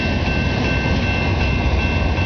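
A freight train with two engines passing, a loud, steady rumbling roar of rolling stock and engine drone that holds constant throughout with no voices.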